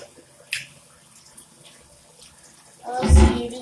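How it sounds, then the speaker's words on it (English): Hot water from a tap gushes into a sink in a short, loud burst near the end, after a few faint clicks and handling sounds in a quiet room. "now I'm about to put some hot water in the sink."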